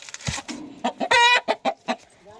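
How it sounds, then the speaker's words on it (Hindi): Chickens cluck close by in a series of short, clipped calls, one longer squawk in the middle, with no talking. "ये देखो दो अंडे इतनी सारी मुर्गियाँ हमारी"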